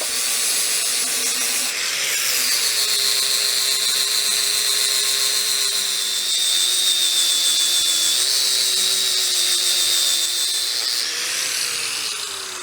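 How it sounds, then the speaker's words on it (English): An angle grinder scuffs stainless steel for a DIY air compressor build, giving a steady, loud, high-pitched whine with a brief spin-up at the start and slight pitch dips as the disc bites the metal, with no talking. "see right where I need to hit with the grinder"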